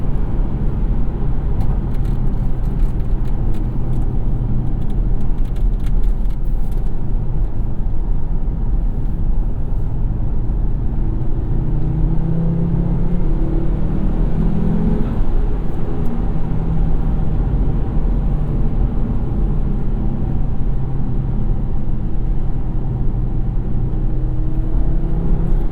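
2007 Volvo S60R sedan with a six-speed manual accelerating hard through the gears, a loud continuous engine drone heard from inside the cabin that rises and drops with each shift, with wind and road noise behind it.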